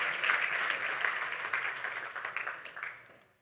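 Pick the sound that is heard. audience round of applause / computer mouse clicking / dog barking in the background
audience round of applause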